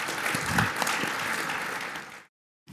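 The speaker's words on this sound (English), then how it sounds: "slow clap" Audience applause at a legal panel summit, a dense spread of clapping from a crowd held at even volume for about two seconds, then cutting off abruptly to silence.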